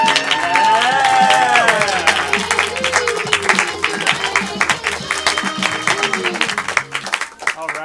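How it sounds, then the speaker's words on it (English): Applause and cheering from a live audience greet an improv comedy group taking the stage at a weekend show, loud and dense at first and then tapering into scattered claps as music plays under it. "give a round of applause for"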